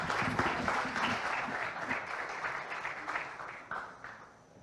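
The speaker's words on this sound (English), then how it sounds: "let's give Evan a round of applause" Applause from a conference audience for a speaker at a talk on lightning products, a dense steady clapping that gradually fades toward the end.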